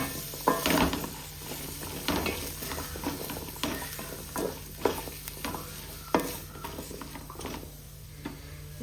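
Sliced onions and small shallots sautéing in oil for chicken biryani, a steady soft sizzle with repeated scraping stirs of a spoon against the pan, close and moderately quiet.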